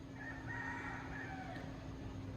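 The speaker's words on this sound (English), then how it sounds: "That's right, cock-a-doodle-doo." A rooster crows once, a faint, drawn-out call that rises and falls over steady background noise.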